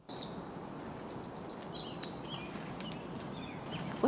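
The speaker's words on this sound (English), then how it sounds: "All different kinds of birds?" Several kinds of birds singing outdoors in a Northwest forest setting, high chirps and trills from a few directions over a soft, steady background hush, fairly distant and moderately quiet.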